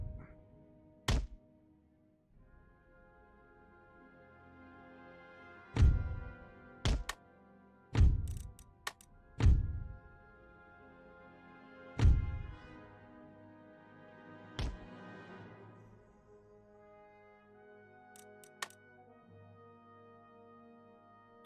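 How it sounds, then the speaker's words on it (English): Howitzer artillery in the Empire: Total War strategy game, a series of sharp, isolated booming thumps at irregular intervals, each fading out quickly against a quiet background. "I'm still able to do a lot of damage with these howitzers"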